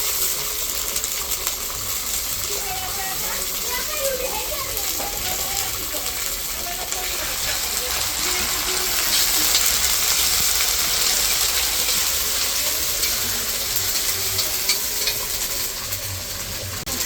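Cumin, coriander and ginger pastes fry in a pan for chicken curry, giving a steady, moderately loud sizzle with occasional stirring scrapes running continuously throughout.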